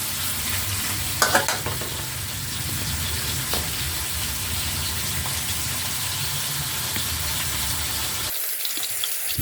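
Shrimp and pork stir-frying in a pan for a sweet and sour dish made with garden tomatoes, a steady loud sizzle with stirring that runs nearly throughout, then cuts off near the end.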